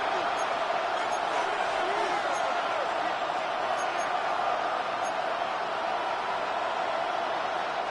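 Steady, dense roar of a football stadium crowd during a tight fourth quarter of a Cowboys versus Lions game, loud and unbroken throughout, with a commentator talking over it.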